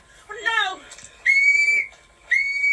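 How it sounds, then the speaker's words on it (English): A rape whistle blown twice in long shrill blasts, each about half a second, following a brief scream-like voice; loud and close in a street confrontation. "She grabs her rape whistle"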